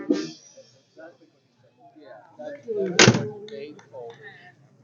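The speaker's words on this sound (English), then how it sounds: "Shut this door." A 1959 Buick Electra 225 Convertible's door thumps shut with a single solid slam, close by, amid a person talking before and after.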